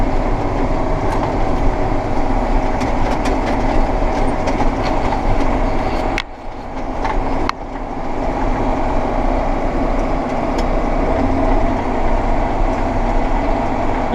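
An old Case International hay baler, essentially a Hesston, baling and wrapping a bale at night: a loud, steady mechanical rumble with rhythmic clattering that dips briefly midway, then resumes.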